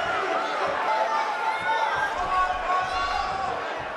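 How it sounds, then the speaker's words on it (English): A wrestling arena crowd at a championship match roars in a sustained ovation, a loud continuous wash of cheering with scattered thuds underneath and a commentator's voice talking over it. "Listen to the ovation from this crowd."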